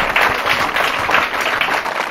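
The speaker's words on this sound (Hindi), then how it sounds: "ताली बजाइए इनके लिए।" Audience applause at an Urdu literary quiz programme, a dense steady burst of clapping from a crowd that fills the whole short stretch with little variation.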